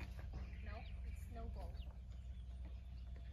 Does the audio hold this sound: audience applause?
no